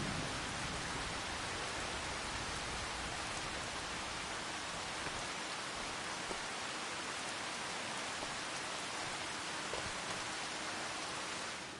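Steady rain in Farming Simulator 25 in May at dusk, a dense unbroken hiss of falling rain that holds constant and fills the whole stretch, with no voices.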